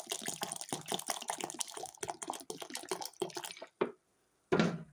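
Ice water poured into a finely ground mixture, a close, continuous splashing and trickling stream with small drips, pausing briefly before a final gush.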